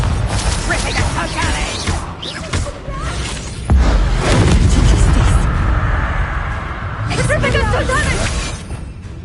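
Booming spell blasts and crashing impacts from Hogwarts Legacy combat roll through a dense mix of mechanical clatter, with a heavy surge midway and a voice speaking over parts of it.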